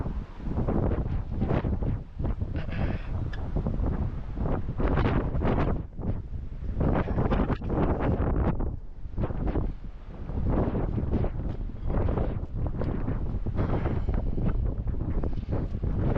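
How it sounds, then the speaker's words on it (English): Strong wind battering the microphone outdoors, loud rumbling gusts rising and falling continuously with no clear talk. "It's too windy for that."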